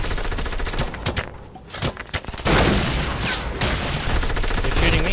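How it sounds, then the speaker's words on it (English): Bursts of gunfire in the video game Fortnite Battle Royale: loud, rapid automatic volleys and separate sharp shots come in clusters, with a short quieter gap before a dense stretch of sustained firing. "They're shooting me."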